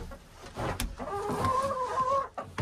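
Chickens cluck and murmur inside a winter coop, a steady run of close, moderate calls with short tonal notes, heard alone.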